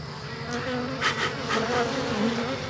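A dense, steady drone of many honeybees in an opened backyard hive during an inspection, close and continuous with shifting buzzing tones and no pauses.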